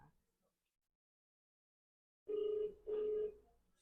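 A telephone call being placed back to a number, heard as a brief silence followed by two close, steady ringback tone bursts in quick succession.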